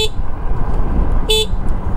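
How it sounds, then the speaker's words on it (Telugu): A Quantum electric scooter horn gives two short beeps, a faint first one at the start and a louder, clear second one shortly after, over steady outdoor background noise. "ఓకే, హార్న్ కూడా బాగానే ఉంది"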